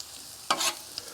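Cabbage, sausage and shrimp stirred on a Blackstone griddle: a quiet background sizzle broken by one short scraping, clattering stir of a spatula, then a small tap.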